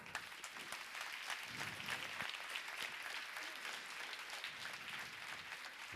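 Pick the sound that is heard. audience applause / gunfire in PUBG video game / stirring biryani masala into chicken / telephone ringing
audience applause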